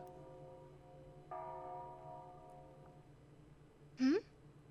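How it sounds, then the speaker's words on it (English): A soft, sustained bell-like chime rings out and slowly fades in the video game Persona Q: Shadow of the Labyrinth, followed by a short rising tonal blip near the end, over a quiet background. "It sounded like bells."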